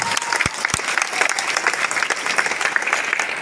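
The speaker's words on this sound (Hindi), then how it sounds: "एक जोरदार तालियां होनी चाहिए इस संस्था के लिए।" An audience breaks into hearty applause for a wellness company at a Hindi-language business event, a dense, steady wash of clapping with no talk.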